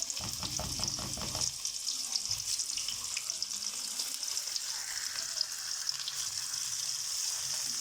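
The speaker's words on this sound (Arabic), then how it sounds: "هنحط السمك بتاعنا كده في دقيق وناخده كده من الدقيق على الزيت على طول" Flour-coated fish going into very hot oil: a brief bubbling rumble as the pieces drop in, then a loud, continuous sizzle of frying that carries on steadily, with no speech.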